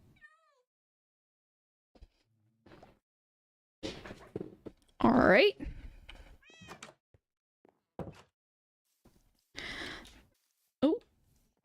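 A Minecraft cat meows in a couple of short, rising calls among sparse game thunks and clicks, with a person talking briefly in between.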